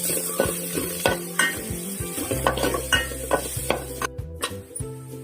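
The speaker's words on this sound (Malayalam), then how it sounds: "ഇനി നമുക്ക് അടുത്തത് തേങ്ങ ഇട്ടൊന്ന് മൂപ്പിക്കാം." Grated coconut roasts in a pan for Kerala-style chicken curry, with steady sizzling broken by repeated scraping and clinking of a spoon stirring against the pan.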